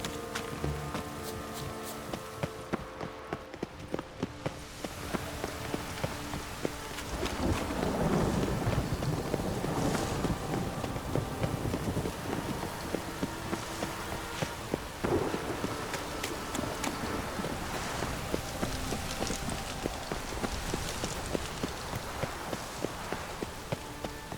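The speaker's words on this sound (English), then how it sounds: "And it's raining again." Steady rain in The Witcher 3 game weather, a dense continuous hiss with low rumbling gusts and occasional brief clicks layered over it.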